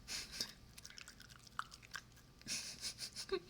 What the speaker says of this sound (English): ASMR munching sounds